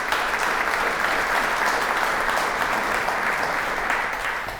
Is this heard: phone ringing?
no